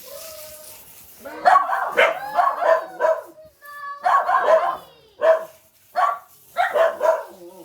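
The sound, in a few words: dog barking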